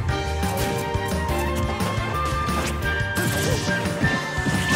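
An up smash attack lands in Super Smash Bros. 4 during a Mario, Greninja, Peach and Sheik match, a sharp crashing hit over busy music and game effects.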